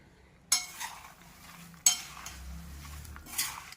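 Jowar puffs being tossed with salt in a pot, a few sharp clinks and scrapes of a spoon against metal followed by soft rustling stirring, close and fairly quiet, no talk.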